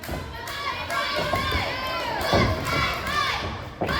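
A wrestling crowd in Houma, Bayou Blue Recreation, shouts and cheers throughout, lively mixed voices with high-pitched children's yells and occasional thuds from the ring.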